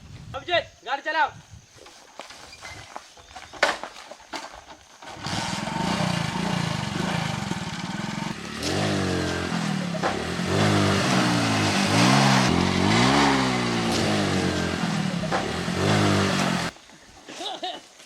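A vehicle engine starts and then revs steadily for about twelve seconds, loud and close, with people talking over it in a village setting.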